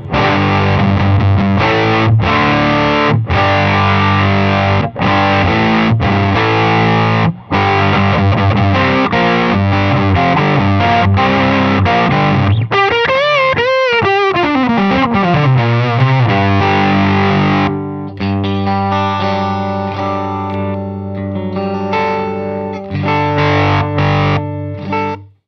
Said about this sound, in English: we've got the FFM2, which is a germanium fuzz face